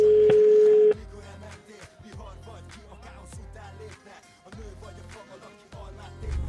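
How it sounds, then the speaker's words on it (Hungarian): A telephone ringback tone on an outgoing call: one loud, steady beep lasting about a second, then quieter rhythmic music-like sound with no voices. "Csörögjünk neki."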